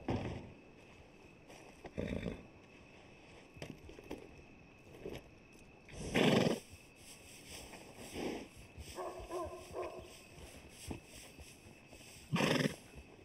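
A horse in the RedM video game snorts and whinnies with clip-clop hoof sounds and other game effects, as a few loud bursts rise over a quiet background.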